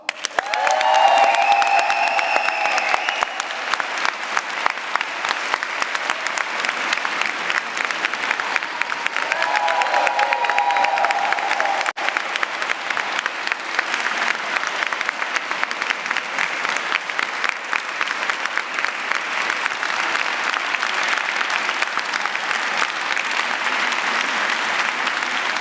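Sustained applause from an audience at a live slam event in a museum hall, dense steady clapping filling the space with a few brief tonal sounds early on, continuing evenly throughout.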